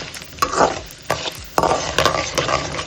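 Lentils frying with curry leaves in a pan over a medium flame, a steady close sizzle broken by several sharp scraping stirs of a spatula, with no talking.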